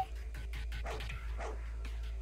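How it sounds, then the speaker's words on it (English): Guard dogs in a video game bark in a quick series of sharp, close woofs and yips over a low, steady background hum. "Why are the dogs barking at me?"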